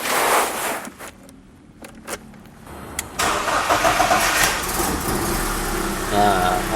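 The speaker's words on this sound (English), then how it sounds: "now let's check the engine sound" A BMW E30 318i engine cranks and starts after a few quiet moments, then settles into a steady, rough idle, close and fairly loud.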